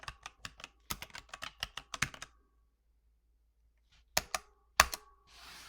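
A computer keyboard is tapped in a quick burst of close, crisp keystrokes for about two seconds, then falls silent before two more sharp isolated clicks, with no talk.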